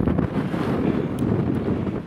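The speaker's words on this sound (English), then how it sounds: "Windy." Strong wind buffets the microphone on an open fell near Dalehead Tarn, a loud, continuous roaring rush with no talking.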